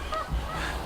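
Geese on a pond give a brief territorial honk outdoors, a single short call at moderate distance over soft background ambience.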